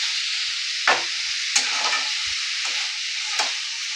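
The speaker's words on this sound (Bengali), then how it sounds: "কিমাটা আমি বানিয়ে নেব। একটু স্লো আঁচে বানাবো।" Chicken mince sizzles steadily in a pan over slow heat, with a few distinct scraping stirs cutting through the constant close frying hiss.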